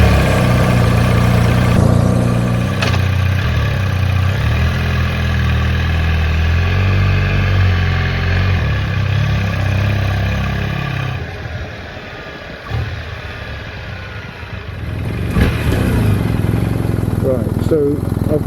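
A car fitted with an Akrapovic titanium decat header exhaust starts and settles into a deep, rumbling idle that runs steadily throughout, loud and close, with a few blips and shifts in tone along the way.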